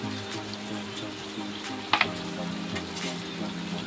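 Ground garam masala mixed in water poured into a sizzling banana flower and prawn curry, a steady close frying hiss with a brief pair of sharp splashes or clinks midway and faint scrapes after.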